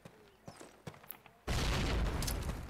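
A grenade blast in the Call of Duty video game: after a few sparse light clicks and small sounds, a sudden loud explosion erupts and its roar rumbles on to the end.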